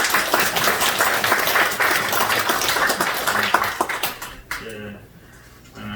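Congregation applause at a church ordination service for elders, deacons and deaconesses, sustained dense clapping that tapers off and gives way to a voice.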